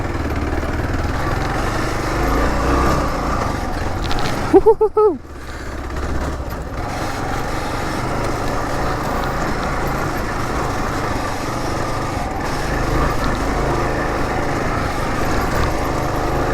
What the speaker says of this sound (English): This is the biggest bike I've ever rode off-road